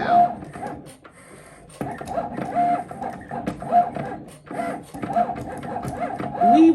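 A vinyl cutting machine cuts vinyl for a T-shirt, giving a loud, steady mechanical whir with repeated short tonal whines and shifts in pitch as the blade carriage moves, continuing throughout.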